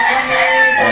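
A pure Golden Boy Sweater gamefowl rooster, with double nose markings, crows in a drawn-out, loud call filling the whole second, close by with no talk.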